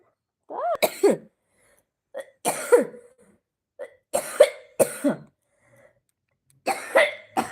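A person with a bad cold coughs repeatedly in close, harsh bursts, with short pauses of silence between the fits.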